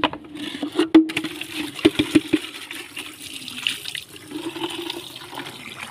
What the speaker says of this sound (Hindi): इन कबूतरों का पानी चेंज कर देता हूँ, पानी ख़त्म हो चुका है।